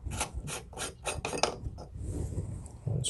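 Set screw being backed out of a Moen kitchen faucet cartridge, a run of short metallic rasping scrapes in quick succession, close and fairly quiet, with no voices.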